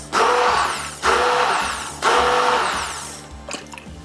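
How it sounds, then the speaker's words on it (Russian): An immersion blender run in short pulses inside a tall glass of water to rinse itself clean: three loud, close whirring bursts of about a second each, ending with a few clatters. "Довольно высокий стакан, погружаете блендер и включаете короткими импульсами."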